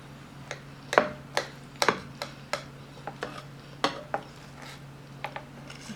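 Cutlery ticks and clicks against a plate while a stuffed cabbage roll is cut open, a dozen or so sharp, irregular taps spread over several seconds over a steady low hum.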